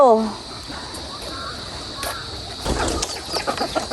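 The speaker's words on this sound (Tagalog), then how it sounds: "ng kanyang mga alagang manok malalaki na po yung manok" Chickens cluck and flutter nearby at a fishpond, with scattered bird calls, a splash of water and some background rustling; a brief whistle-like sweep opens it.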